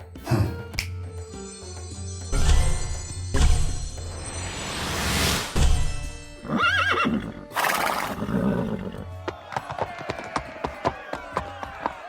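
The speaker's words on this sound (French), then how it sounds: "40 magnifiques chevaux piaffaient le sol d'impatience" Several horses whinny and neigh repeatedly amid whooshing movement and a rapid patter of hooves, with loud bursts and fast rhythmic stamping toward the end.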